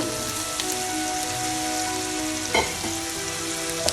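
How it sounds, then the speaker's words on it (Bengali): Onion, chili and ginger-garlic paste fry in hot oil in a pan for a Bangladeshi pabda fish curry, with a steady, dense close-up sizzle like rain, a couple of brief louder crackles, and no talking. "পেঁয়াজ আর মরিচ আর আদা রসুন দিয়ে আমি ভালো করে ভেজে নিচ্ছি"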